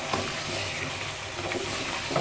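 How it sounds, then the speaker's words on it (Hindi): Turmeric roasting in oil in a pan for salted mutton gosht, with a spoon stirring through it; a soft, steady sizzle with scraping touches, faint and close, no voices. "पहले मैं हल्दी को अच्छे से भून लूँ, मिक्स कर लूँ अच्छे से।"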